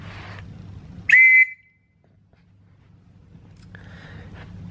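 An antique British trench whistle from around 1916 gives one loud, close, shrill blast lasting under a second, followed by quiet and then a fainter, breathier second toot.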